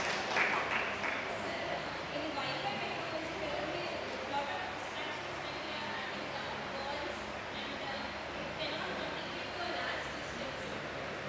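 An audience at an international conference on IoT and computing applauds a participant, a continuous, even wash of clapping that holds steady at moderate loudness for over ten seconds.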